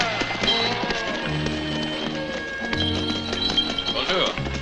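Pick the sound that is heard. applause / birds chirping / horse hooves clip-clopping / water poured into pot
horse hooves clip-clopping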